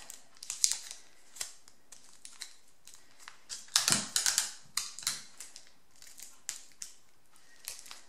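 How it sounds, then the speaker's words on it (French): Adhesive tape is pulled and wrapped up close around a paper tube: irregular sticky rips and crinkles, with a sharper burst of tearing midway. "On peut fermer le boudin avec du scotch."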